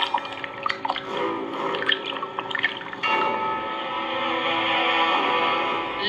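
Water splashes and sloshes as a person swims in deep sea, choppy strokes at first, then a steadier rushing churn, fairly close with no voices.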